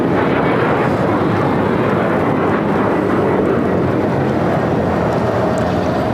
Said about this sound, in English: This is Breeze Airways Flight 6386 taking off to Madison on the E190.